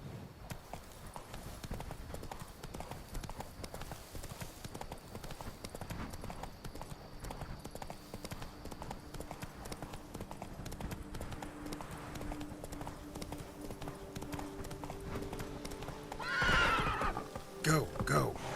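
Roach, a horse in The Witcher 3: Wild Hunt, galloping with a fast, steady clip-clop of hooves throughout, a whinny near the end, and game sounds and occasional speech mixed in.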